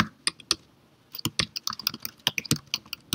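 Computer keyboard typing of an LDAP entry during OpenLDAP setup on Ubuntu 18.04, a few isolated key taps followed by a quicker run of clicky keystrokes, close and clear with no talking.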